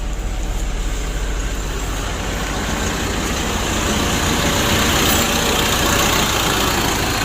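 A Mitsubishi Pajero Sport Dakar with a DI-D diesel engine idles while warming up after overheating, a steady, loud, close rumble and clatter that holds even throughout.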